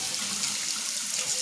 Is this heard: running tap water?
yes